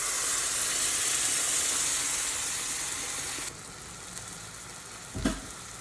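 Spinach and spices frying in a pan give a steady bright sizzle for a few seconds, then quiet down to a softer hiss, ending with a brief low knock.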